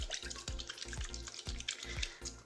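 A leaky water tap drips steadily into a sink, each drop a distinct plink repeating roughly every half second, close and clear over a faint watery hiss with no voices.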